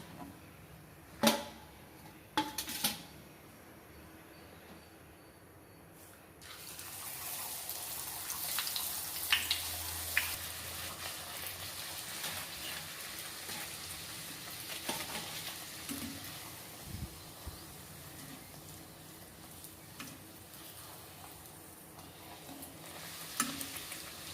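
A poori deep-fries in hot oil with a broad, steady sizzle and is then lifted out, with scattered clinks and taps of the utensil around it, close but fairly quiet.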